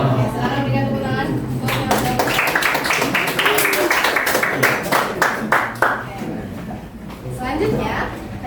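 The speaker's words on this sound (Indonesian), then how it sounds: "silakan berikan tepuk tangan" A classroom of students clapping for a classmate at the board during a maths lesson, a lively burst of claps that peaks mid-way and fades, with a teacher's voice and chatter around it.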